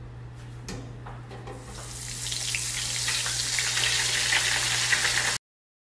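Risoles filled with corn and catupiry frying in a 7-litre deep fryer make a loud, dense bubbling sizzle that swells and holds steady before cutting off abruptly.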